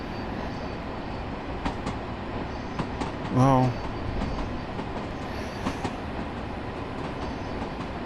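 Long Island Rail Road train running in the Train Sim World video game, a steady rumbling rail drone with faint periodic clicks and a brief louder tonal burst midway, while someone speaks briefly.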